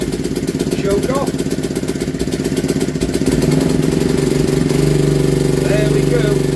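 An old pull-start engine from the 1940s to 1970s catches and runs, a loud, close, fast-clattering idle that picks up and steadies into a rougher, stronger beat, with a voice talking over it.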